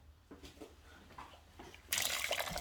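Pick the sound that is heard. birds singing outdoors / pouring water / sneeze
pouring water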